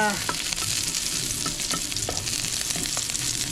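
Food sautéing in a pan of hot oil gives a dense, steady sizzle with faint scrapes and clinks of stirring, close and continuous throughout.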